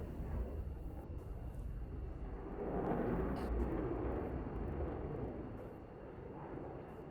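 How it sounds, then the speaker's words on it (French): A Dassault Rafale fighter jet roars through a solo display at the Air14 air show, its distant rumble swelling to a broad peak midway, then easing off without any talk. "Cet avion intervient dans l'armée de l'air française et dans la marine dans 7 unités différentes."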